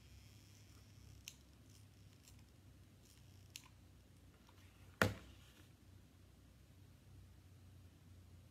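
Scissors snip now and then during a wine glass snowglobe craft, with several soft, sparse cuts and one sharper, louder snap against a quiet background.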